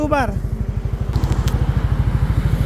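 A motorcycle engine warming up idles close by on its center stand with a steady, rapid putter, preceded by a brief rising whine at the start.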